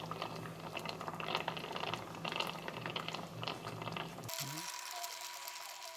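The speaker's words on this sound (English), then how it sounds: "As you can see, we're coming along nicely, coming to a nice simmer." Marinara sauce with a submerged basil sprig simmering in a pot, bubbling and crackling steadily for several seconds before the sound abruptly thins to a quiet hum.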